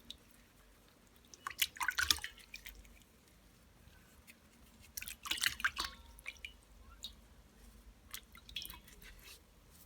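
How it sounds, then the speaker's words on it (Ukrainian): Mushrooms being rinsed under running water, with two bursts of splashing and dripping a few seconds apart, close and fairly quiet, no voices. "для початку помию гриби так, щоб вони дуже багато води в себе не набрали."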